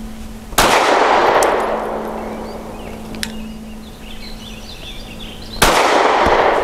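Two loud, close pistol shots from an Arex Delta M OR Gen 2 fired at a range target, several seconds apart, each a sharp crack trailing into a long reverberant decay.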